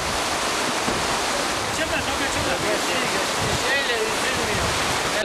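Rushing water of the Fırtına stream, a loud, continuous broadband roar close by, steady throughout with faint higher tones riding over the flow.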